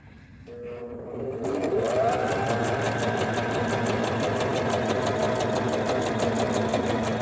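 A sewing machine stitches elastic onto trousers, starting after a brief quiet moment and then running in a fast, even, rhythmic whir that holds steady to the end.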